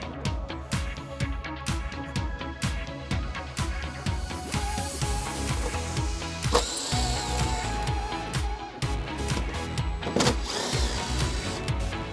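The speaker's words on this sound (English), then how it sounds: "We're going to remove the push pins using a flathead screwdriver and the nuts using a 10mm socket." A ratchet with a 10mm socket removes nuts while a trailer hitch is installed on a 2017 Honda CR-V, giving rapid repeated clicking bursts up close, with faint metallic handling between them.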